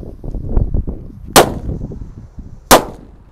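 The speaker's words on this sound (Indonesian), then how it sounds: "Selanjutnya kita nyalakan ini mercon colorful thunder" Two colorful thunder firecrackers go off as sharp, loud bangs about a second apart, each with a brief ringing tail, over low outdoor background murmur.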